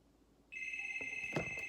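A telephone bell starts ringing halfway through and keeps up a steady, loud electronic trill, with a brief knock and faint rustle near the end.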